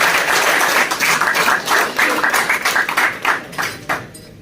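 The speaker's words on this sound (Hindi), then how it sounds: "नजीर अहमद के लिए जबरदस्त तालियां।" An audience at the All Kashmir Car Cup 2023 pigeon tournament gives a participant a burst of brisk clapping, steady at first and then thinning out into scattered claps before it stops.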